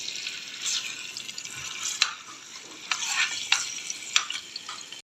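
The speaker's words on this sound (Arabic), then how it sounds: "اول ما هيسخن هننزل بفصين توم" Garlic cloves frying in hot oil, a soft continuous sizzle and crackle with a few sharper spits and pops, moderately quiet and close, no talking.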